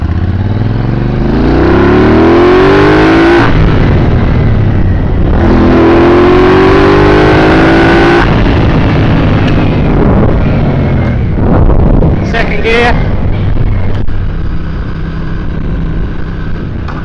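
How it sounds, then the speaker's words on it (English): A motorcycle engine revving hard in first gear, climbing in pitch repeatedly up to the rev limiter and bouncing off it, loud and close with wind buffeting; no talking. "First gear, I'm going to hit the rev limiter."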